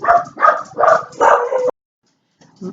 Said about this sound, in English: They're happy, happy dogs.